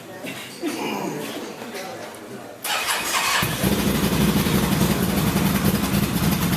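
A 2013 Can-Am Outlander 1000 XT ATV with an exhaust fitted starts up and settles into a loud, steady idle close by, after a quieter stretch of background noise and voices.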